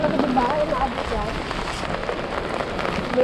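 Heavy rain from Typhoon Fabian in a rural Occidental Mindoro province, a loud continuous hiss of downpour close by, with voices talking over it.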